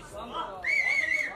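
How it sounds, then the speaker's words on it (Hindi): Audience whistle cheering Sunil Grover at a launch event for a celebrity cruise show, a single sustained piercing whistle rising over crowd chatter and murmuring voices. "दोस्तों सीटी बजाओ उनके लिए, सुनील के लिए"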